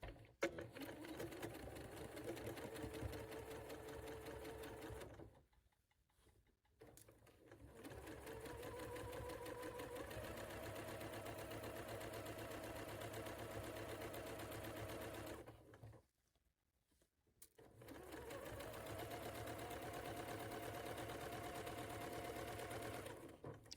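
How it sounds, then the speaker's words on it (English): A sewing machine stitches a quilt seam for a Rocky Star quilt, running in three long steady bursts of rapid even clatter, each lasting several seconds, with two short pauses between them and no talking. "I am going to start by making a couple stitches and backstitching."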